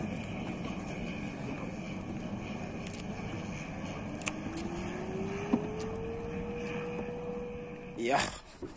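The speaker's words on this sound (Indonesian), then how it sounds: "sedang mendarat di Bandar Udara Petombari Bau-Bau." A fixed-wing airplane landing at Betoambari airport in Baubau, heard faintly from a distance at a fishing spot, its engine drone slowly rising in pitch through steady background noise, with a short clatter near the end.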